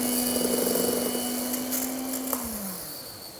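An electric mixer whirring steadily through red velvet cupcake batter, a constant close motor hum with a high whine that winds down near the end, no speech.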